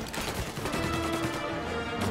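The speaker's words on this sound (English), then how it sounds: "Oh, they shooting at me. They shooting at me." Gunfire in the video game Mafia, a dense burst of loud overlapping shots with a crackling rapid rhythm lasting about two seconds.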